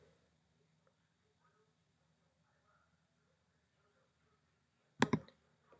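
A single computer mouse click, close and crisp, during a PayPal money transfer, following a long stretch of near silence.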